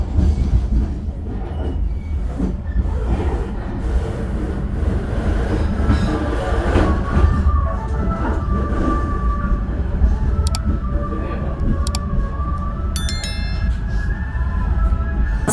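The Gunung Jati passenger train rolls into Cirebon station with a steady rumble and wheel clatter, and brief high squeals of wheels and brakes rise near the end.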